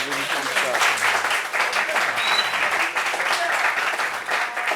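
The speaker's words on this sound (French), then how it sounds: "Applaudissements pour ça." Audience applause at a family-themed discussion gathering, a dense, steady wash of many hands clapping that stays loud and close throughout, with some voices faintly mixed in.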